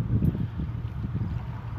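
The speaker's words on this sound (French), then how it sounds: "on a le vent également qui nous fait du bien" Wind blowing steadily beside a river as someone sits on a rock outdoors, a low continuous rumble and buffeting that is moderately loud and fairly even throughout, with no talk.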